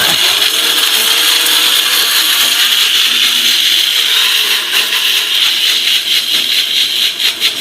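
Sujata kitchen blender running steadily at high speed for several seconds, a loud continuous whirring motor with a rattling, grinding edge from chillies being blended, alone without talk.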